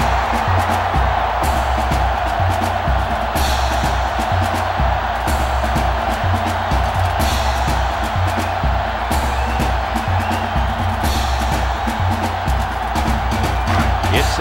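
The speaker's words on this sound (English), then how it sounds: "this crowd is going absolutely insane" Stadium crowd noise from NCAA Football 07 during a college football game, Arkansas State at Arizona State, a loud continuous roar of cheering that stays steady throughout with no talk over it.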